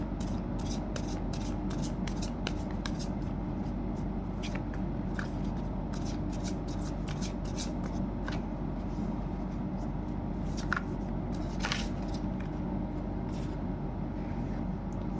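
A tarot deck is shuffled by hand close up, a continuous papery rustle punctuated by sharp crisp riffles and card snaps, some louder than others, over a low steady background.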